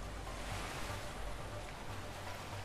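Rushing waterfall in the video game A Way Out, a faint, steady broadband roar of falling water with low rumble underneath, continuous and fairly distant.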